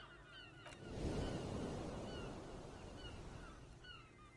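Water laps along the shore of a large lake or sea in the Disco Elysium game world, a soft surging wash that swells then fades, with distant honking bird calls drifting over it.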